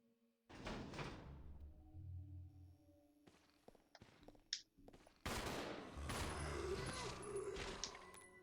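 Gunfire in an indie zombie shooter game, sharp bursts of shots amid clattering thuds and door-like movements, loud bursts especially toward the end, with a voice briefly present.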